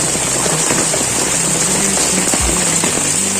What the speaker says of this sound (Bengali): এই দেখো এরকম বৃষ্টিটা হচ্ছে